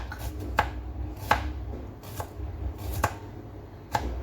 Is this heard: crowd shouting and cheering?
no